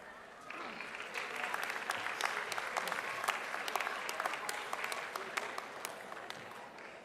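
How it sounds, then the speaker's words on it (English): Sustained applause from a large audience fills a hall at the 2019 WPI graduate commencement ceremony as new PhDs are honored, a dense wash of clapping with sharper individual claps standing out throughout. "Please join me in a congratulatory round of applause for our newest PhDs."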